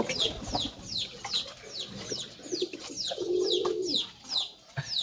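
Domestic pigeons suffering from a worm infection coo in a home setting: a low, drawn-out coo stands out midway, while bright, repeated bird chirps sound at a steady pace throughout.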